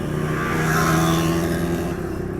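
A motorcycle engine idles and runs steadily after carburetor tuning, now running slightly rich, a close, loud, even hum with a constant low rumble and no pauses.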